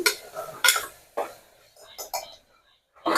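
A spoon scrapes and clinks against a pan as ginger garlic paste and turmeric are mixed, with several sharp, close knocks spaced irregularly and a faint low murmur between them.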